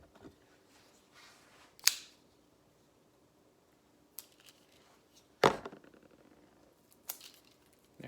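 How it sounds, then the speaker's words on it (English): A small sticker ripped off a part during a Tallboy 3 dropper post install, heard as a few sharp, brief tearing snaps spread apart by quiet handling noise, fairly close. "I'm going to rip this little sticker off"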